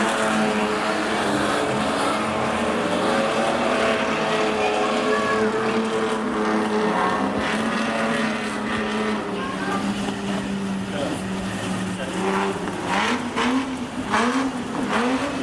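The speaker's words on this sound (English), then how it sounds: "And it is car number 42 picking up the race win coming past you now." Super Stocker race cars roar past at Rockhampton Speedway, a steady loud engine drone with rising and falling pitch as cars sweep by, a race commentator talking over it.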